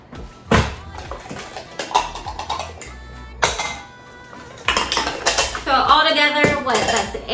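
Corelle dinnerware bowls and plates, small and large, being handled and stacked, with sharp clinks and clatters in bursts and a spoken voice over parts of it.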